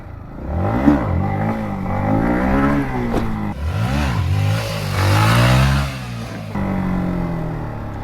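A Yamaha MT15 motorcycle revving hard as the rider pops a wheelie, the engine climbing and dropping in repeated surges, loud and close with no talk.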